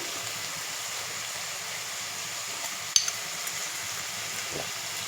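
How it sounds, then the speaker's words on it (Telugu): Tomatoes fry softly in a pan with a steady, faint sizzle, broken once by a single sharp utensil clink near the middle. "టమాటా అది కొంచెం మెత్తగా ఫ్రై అయ్యేదాకా ఫ్రై చేసుకోవాలి."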